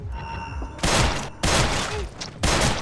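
Gunfire in a John Wick–style shooter video game: three loud, dense bursts of rapid shots, each lasting roughly half a second, separated by brief quieter gaps.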